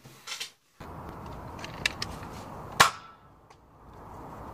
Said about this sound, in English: let's take it outside to the range and see if it still shoots